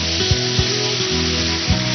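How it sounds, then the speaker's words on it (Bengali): Spice masala for Awadhi murg frying in a pan, a steady close sizzle with a low hum beneath and a few soft thumps of stirring, with no voices. "মশলাটা যতক্ষণে কষা হচ্ছে"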